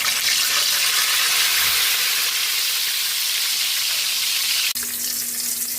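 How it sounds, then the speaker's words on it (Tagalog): Fish fries in hot oil with a loud, continuous sizzling hiss that holds steady, then a brief dip and a faint click near the end. "Prito na natin yung ating isda."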